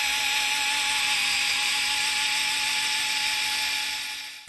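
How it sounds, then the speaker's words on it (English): A small portable electric screwdriver drills a 1/4 inch hole, whining at a high, steady pitch for several seconds, then winds down abruptly at the end. "No problem for this little portable screwdriver to drill out that hole."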